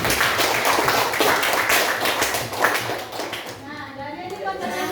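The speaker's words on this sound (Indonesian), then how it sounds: "tepuk tangan untuk Sofia." A classroom of children claps steadily, a dense patter of many hands applauding close by for several seconds, with children's voices mixed in and the clapping thinning out near the end.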